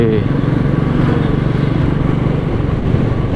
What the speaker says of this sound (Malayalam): നമുക്ക് പുറയിൽ വേറൊരു കമ്പനിക്കാരൻ വരുന്നുണ്ട്. അതും ബുള്ളറ്റ് സ്റ്റാൻഡേർഡ് ആണെന്ന് തോന്നുന്നു.